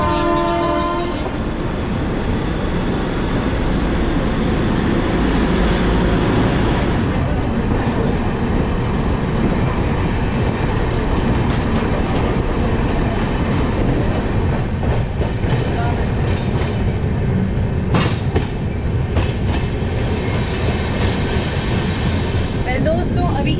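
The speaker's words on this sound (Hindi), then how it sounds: "हमारी ट्रेन निकल चुकी है।" New Delhi–Ajmer Shatabdi Express departing and running on rails in Haryana, a loud continuous rumble heard from inside the carriage with faint clicking and rattling throughout.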